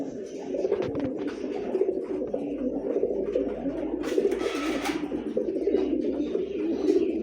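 A male racing pigeon, a dark checker, coos in a steady, throaty, repeated rhythm close by, with a faint rustle in the background.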